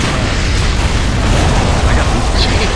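A frag grenade goes off in Gears of War 3 co-op play, a dense, loud, sustained boom and rumble filling the whole moment, with no clear speech over it.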